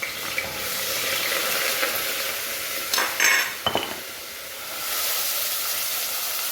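Garlic and onion frying in hot oil, a steady broad sizzle running throughout, with a few brief clatters from a pan near the middle; no one speaks.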